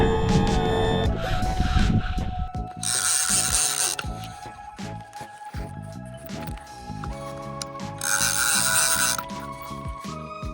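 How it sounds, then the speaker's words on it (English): On a skiff in shallow redfish water, a Power-Pole lowers the boat motor with loud clicking, ratcheting and whirring mechanical noise. The noise comes in uneven bursts with short pauses, close by. "my power pole is putting my motor down"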